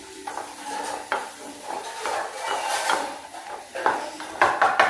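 Plantain is stirred and sautéed in a pan, with repeated scraping and clinking of a spatula against metal over a soft background sizzle, the strokes growing livelier toward the end; no voices.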